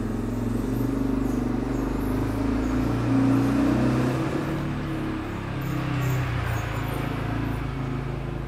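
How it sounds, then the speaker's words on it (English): A quad bike engine runs with a steady, fairly close rumbling drone that swells slightly in the middle and fades a little, with no speech over it. "That's my dad on my quad bike."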